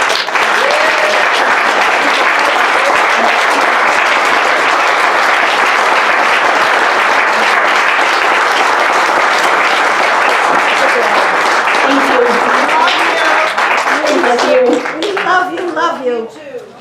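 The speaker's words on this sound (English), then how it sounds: "give a big round of applause for Tara Tenney" Applause from the crowd at a Second Amendment rally: loud, dense, sustained clapping that goes on steadily for about fifteen seconds, then thins out as a few voices and cheers come through at the end.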